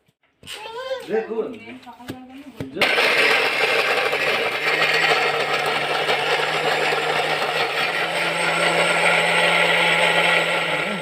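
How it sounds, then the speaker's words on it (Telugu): After a few moments of voices and clatter, a mixer grinder starts grinding tomatoes with a loud, steady whirring roar that continues without pause. "సో ఇప్పుడైతే మనం టమాటా గ్రైండ్ చేసుకుందాము."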